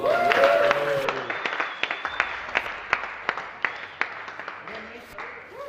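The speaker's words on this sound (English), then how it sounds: "round of applause please for Chris Hardwick." A small crowd claps steadily at a racing podium ceremony, with a voice speaking over the start before the applause carries on alone, scattered individual claps standing out.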